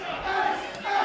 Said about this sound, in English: mostly you hear the majority of the crowd chanting garbage